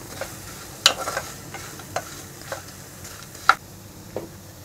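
Raw green mango pieces are stirred with jaggery in a pan, with a soft background sizzle and a series of distinct spoon clicks and scrapes spaced about a second apart.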